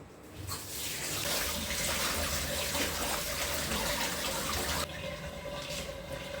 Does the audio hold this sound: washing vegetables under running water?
yes